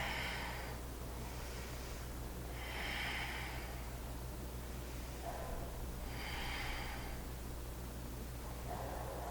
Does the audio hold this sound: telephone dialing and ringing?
no